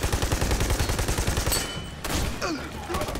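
RPD machine gun fire in the video game Army of Two: The Devil's Cartel, a loud, rapid, sustained stream of shots with a brief break partway through, heard close.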